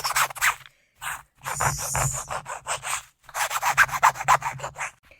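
Wax being scraped off painted fabric, with a series of short, close, dry rasping strokes that come in bursts separated by brief pauses.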